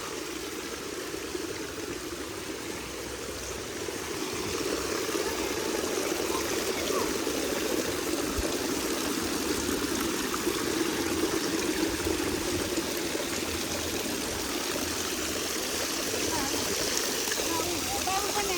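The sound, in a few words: water flowing from stone water spouts in Pokhara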